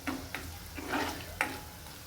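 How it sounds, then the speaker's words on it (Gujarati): Green turmeric roasting in a pan over low heat, a soft sizzle broken by a few distinct scraping strokes of stirring at uneven intervals. "હળદરને આપણે હલાવતા રહીશું 5 મિનિટ સુધી, જ્યાં સુધી ચડે નહીં ત્યાં સુધી"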